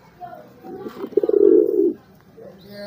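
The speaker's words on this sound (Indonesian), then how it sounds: "ini yang ngegelembung tuh waktu di main di pasar tuh namanya apa ya merpati apa ya" A racing pigeon of the plontang type coos in a burst of low, bubbling throat notes that swell and then fade, heard close up alone.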